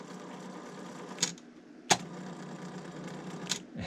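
A TEAC CX-650R cassette deck's transport mechanism runs noisily with a steady whir, broken by three sharp mechanical clunks as buttons engage.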